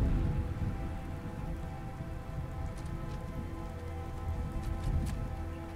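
Steady, even rain patters over a surface in a nighttime ambience from the video game Fallout: London, with a few brighter drip ticks and no voices.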